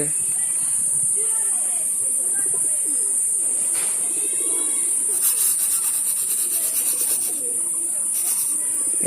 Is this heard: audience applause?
no